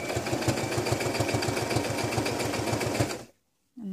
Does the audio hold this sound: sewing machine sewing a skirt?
yes